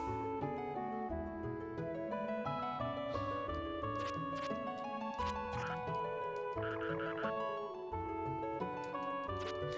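Frogs croak in the retro game Treasure Hunter G, a rapid repeating chiptune croak pattern layered over continuous synthesized background music throughout.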